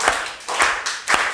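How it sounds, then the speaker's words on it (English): Students clap their hands in three distinct loud bursts of applause-like slapping, evenly spaced and close, with no talking. "Then you'll clap the hands and she'll be happy."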